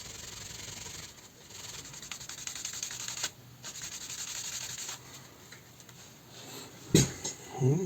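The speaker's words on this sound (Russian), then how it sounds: "Сейчас мы это все зачистим и заполируем." Leather card holder being sanded by hand, a steady close scratchy rubbing that continues throughout, briefly easing off and picking up again, with a sharper knock and scraping near the end.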